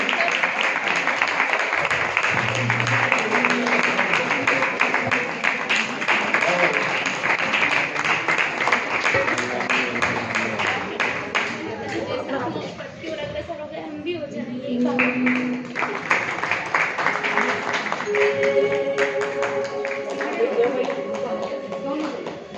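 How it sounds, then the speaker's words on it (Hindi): An audience claps loudly during a religious ceremony where a revered teacher's old pichhika is handed over. Sustained, dense applause fills the first half, with voices throughout and tuneful sounds emerging later. "जोरदार ताली के साथ वंदना करेंगे।"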